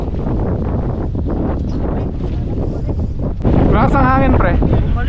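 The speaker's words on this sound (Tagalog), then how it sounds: "Ang lakas ng hangin." Strong wind buffets the microphone on a small fishing boat out hunting king fish, a loud continuous rumble with voices talking over it.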